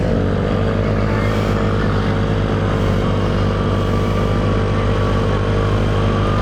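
A motorcycle rides along the Tagaytay-Batangas road, its engine droning steadily under loud, constant wind rush, heard from on board without a break.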